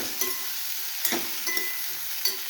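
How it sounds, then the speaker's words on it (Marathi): Ivy gourd tipped into a pan of browned onions, a continuous close sizzle punctuated by several sharp clanks and scrapes of a spoon against the pan. "आता तोंडली टाकून घेऊ."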